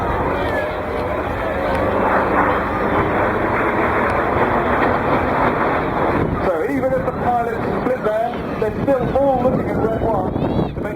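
RAF display jets perform a vertical break high overhead at an air show in Bristol, a broad roaring engine noise heard outdoors under steady wind buffeting that shifts and wavers in its second half.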